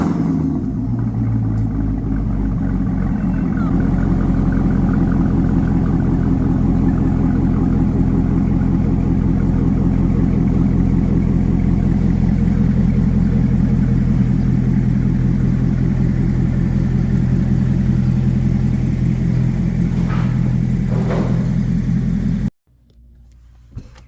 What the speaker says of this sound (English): I'm in the Z06, so I'm gonna do a quick couple of pulls over there